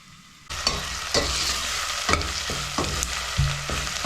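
Chopped onion fries in a pan for a North Karnataka mandakki usli dish, with a steady sizzle and a spoon scraping and stirring at irregular intervals of about half a second to a second. The sound is close, and no one speaks.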